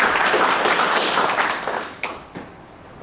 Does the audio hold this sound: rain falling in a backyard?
no